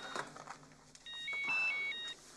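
A telephone rings in short electronic tones, starting mid-clip, steady and fairly clear, with faint background voices at the start.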